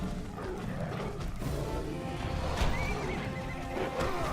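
A horse whinnies in the video game Castlevania: Lords of Shadow, a shrill neigh rising over clip-clopping hooves and a low, busy game soundscape.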